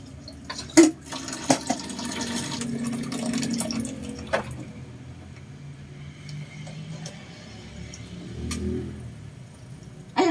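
Water runs from a tap into a basin during a baby's bath, a soft trickle and splashing under occasional sharp knocks and clatters nearby.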